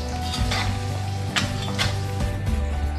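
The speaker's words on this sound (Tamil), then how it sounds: "வெங்காயம் முந்திரி எல்லாம் நம்மளுக்கு பொன்னிறமாக வதங்கிட்டோம்." Onions and cashews sautéing in a pan until golden, a steady close sizzle with a few scraping stirs and spoon knocks, no voices.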